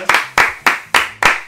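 Five sharp, evenly spaced hand claps ring out close and loud during a game-show style unboxing, sounding like a small group clapping in rhythm rather than a crowd.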